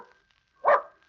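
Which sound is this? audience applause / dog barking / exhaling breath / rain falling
dog barking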